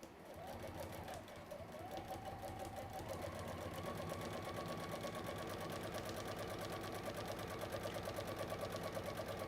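A sewing machine runs steadily while stitching foam a quarter inch round a base, its rapid mechanical whirr and needle chatter continuous and close, speeding up slightly partway through.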